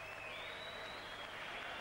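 Crowd at a boxing match applauding a young fighter, a steady broadband wash of clapping and crowd noise, moderately distant and continuous, with a commentator's voice over it.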